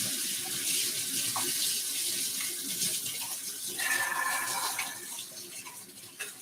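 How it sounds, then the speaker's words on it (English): Tap water runs steadily into a sink as hands are rinsed beneath it, a continuous close splashing that brightens in the middle and tapers near the end, with no talking. "All I got to do now is just rinse my hands off a little bit."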